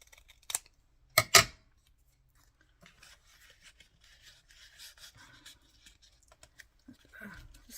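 Scissors snip through paper in a few short, crisp bursts near the start, followed by quieter rustling and handling of paper at close range.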